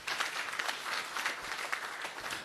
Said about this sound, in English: Can we give him a clap, please?